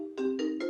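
A mobile phone ringtone chiming out three quick bright tones in a row during a talk indoors, fairly close and alone.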